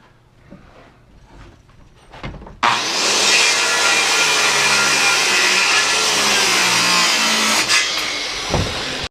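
A power saw cuts square ends on wooden roof rafters with one loud, sustained, steady whine that lasts several seconds, preceded by quieter handling knocks.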